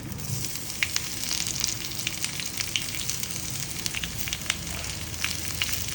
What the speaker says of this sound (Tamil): நம்ம கட் பண்ணி வச்சுருக்கிற வெங்காயத்தை வந்து போடணும்